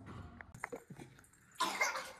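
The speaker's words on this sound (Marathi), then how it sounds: "थोडा खोकला येतो" A young child coughs a few times up close in a home, short harsh bursts followed by a louder rasping stretch.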